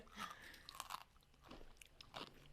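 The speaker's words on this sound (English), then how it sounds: "those are some crunchy pickles" Crunchy pickles being bitten and chewed near the mic, several wet, crackling crunches in uneven bursts, fairly quiet with no talking.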